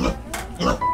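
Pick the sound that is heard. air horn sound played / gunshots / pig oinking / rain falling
pig oinking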